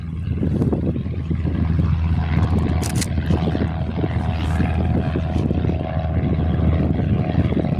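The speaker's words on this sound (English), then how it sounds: "is now departing. Very early takeoff." A Piper light propeller plane departs early from Jandakot Airport, its engine a loud, steady droning roar with a low propeller buzz held constant throughout, close by and alone with no talking.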